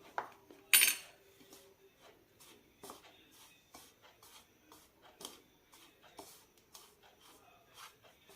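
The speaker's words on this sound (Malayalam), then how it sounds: "ആദ്യം ഇത് നന്നായി ഒന്ന് മിക്സ് ചെയ്തെടുക്കാം." Laddu powder is stirred together with coconut fried in ghee, giving repeated light scraping and clinking of a spoon against a vessel, close and soft, with one sharper clatter near the start.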